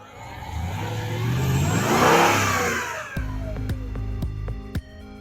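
A Mercedes-AMG engine revs up under acceleration, rising to a loud peak and then falling away, followed by a steady idle with a few sharp clicks.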